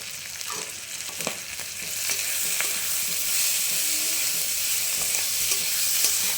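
Vegetables frying in a pan with chopped tomato, meat masala and garam masala sizzle steadily, broken by scraping stirs and clicks of a spoon against the pan, with no voices.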